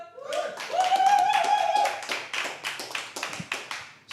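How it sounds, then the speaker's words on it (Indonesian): Applause from a small group on a football talk show, scattered hand claps in an uneven rhythm, close and clear, starting under a voice that trails into a cheer. "Tepuk tangan yang meriah buat Rijal."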